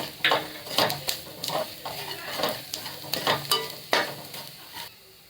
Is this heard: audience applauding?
no